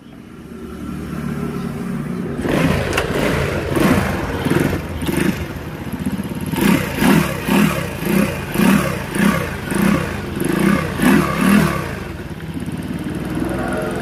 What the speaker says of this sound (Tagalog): Bubuhayin na natin yung kanyang makina.